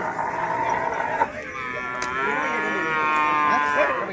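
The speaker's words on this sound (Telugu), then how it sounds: "చూడొచ్చండి పుంగూరు బ్రీడ్ ఆవులండి ఇవి." Punganur breed cows at a busy cattle market, with several drawn-out, rising moos that carry clearly over a steady background of crowd noise.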